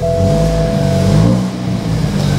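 BMW 220i M Sport engine running rough with a misfire, a loud close throaty idle and rev that wavers and stumbles unevenly, with a low rumbling drone throughout.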